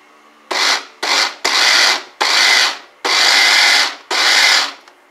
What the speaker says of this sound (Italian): Andiamo una frullatina pian pianino.